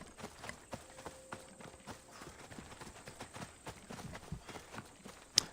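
Horse hooves clip-clop steadily at a walking pace in a PS4 video game, close and even, with a brief sharp sound near the end.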